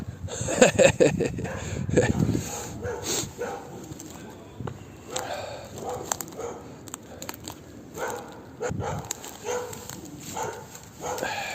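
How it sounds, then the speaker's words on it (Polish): A dog barks in short bursts outdoors in a forest during a treasure hunt, mid-distance and intermittent, mixed with rustling, scattered laughter and people talking. "Pies nie odpuszcza."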